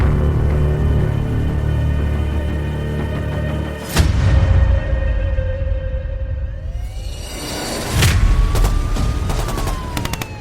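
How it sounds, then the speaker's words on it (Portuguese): Two sharp gunshot cracks from an exchange of fire inside a residence ring out several seconds apart over a steady low rumble and hum, loud and close. "No interior da residência, começa a ouvir-se uma troca de tiros."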